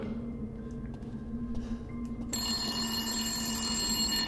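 An electronic telephone bell starts ringing halfway through, loud and steady against a quiet, humming room in the horror game Resident Evil Village.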